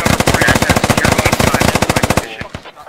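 Rapid automatic gunfire from a firefight in the tactical shooter Squad, loud and close, a fast steady burst of shots for over two seconds before breaking into a few scattered final rounds.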